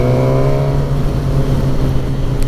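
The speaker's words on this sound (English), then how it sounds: "the sound from that airbox and that engine is lovely" A 2019 Suzuki Katana motorcycle engine drones loudly and close with a strong, steady hum and airbox growl, pitch easing slightly as the bike rides on, no voices over it.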